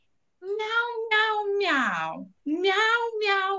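A cat meows loudly and repeatedly, four or five drawn-out, wavering cries close by with short pauses between them.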